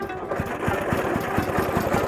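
A small vehicle's engine idles close by with a steady, rapid, even putter that holds at a constant level throughout.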